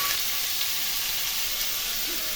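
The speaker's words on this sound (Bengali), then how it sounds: "পাঁচফোড়ন দিলাম, পাঁচফোড়ন ভেজে নিলাম।" Panch phoron spices fry in hot oil for a fish curry, giving a loud, steady, close sizzling hiss that holds without a break, with no talking.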